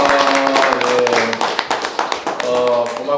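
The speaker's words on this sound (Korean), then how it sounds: "우리 회장님들 수고하셨는데 박수 한번" A church congregation at a Wednesday evening Bible lecture claps for the organizers in a short burst of dense hand claps, heard close, with voices and a sustained tone running underneath.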